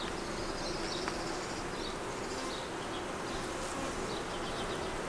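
Honey bees swarm around a hive in an urban garden in Brooklyn, New York City, making a steady, dense buzzing hum that continues throughout, with a few faint bird calls in the background.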